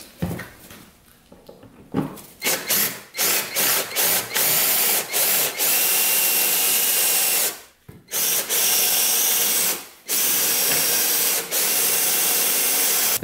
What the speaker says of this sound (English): we can try to drill out these screws right here. So we're gonna get a metal drill bit